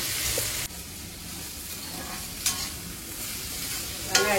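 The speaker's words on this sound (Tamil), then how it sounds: "வெங்காயத்தை கொஞ்சம் வதக்கணும்" Onions sauté in hot oil with popped mustard seeds and cumin, a dense, close sizzle broken by scraping stirs and a few sharp clinks of a spoon against the pan.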